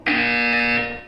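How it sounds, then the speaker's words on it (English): Single loud electronic buzzer from the video game Portal 2, a harsh sustained tone lasting about a second that cuts in sharply and fades at the end. "When you hear the buzzer, look down at the floor."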